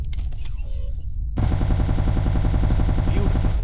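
Spaceship turret weapons in Starfield open up in a loud, rapid, steady burst of automatic fire after a brief quieter lead-in, continuing without pause to the end.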